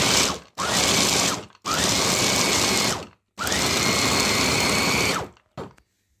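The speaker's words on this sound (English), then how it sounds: "It's a big food processor." A large electric food processor grinding nuts for a homemade nut pickle runs in three long, loud bursts with short pauses between them. The motor whine rises as each burst starts up. No one speaks over it.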